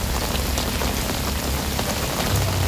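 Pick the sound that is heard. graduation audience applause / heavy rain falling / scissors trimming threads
heavy rain falling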